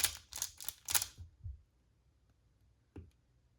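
Pyraminx puzzle turned quickly by hand, a burst of rapid plastic clicks and clacks in the first second and a half, then near silence with one more sharp click close to the mic.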